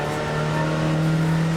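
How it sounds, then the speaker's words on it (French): Steady, close hum of a Kazakh taxi's engine while driving toward the mountains, a constant low drone with no talking. "Et le taxi kazakh semblait pressé de nous emmener visiter ces montagnes."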